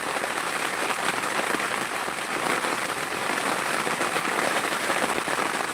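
Heavy rain pouring down in a dense, even hiss, steady and fairly loud throughout with no talking.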